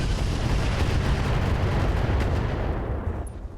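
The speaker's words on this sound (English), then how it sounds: "Quite a lot of missiles there." A loud, dense barrage of missiles firing in the mech combat game RogueTech, a sustained roaring rumble of overlapping launches and blasts that tapers off near the end, with no talking.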